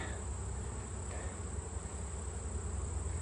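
Honeybees in combined hives, including drones, keep up a low steady hum during an October hive inspection, with a faint high whine over the droning buzz.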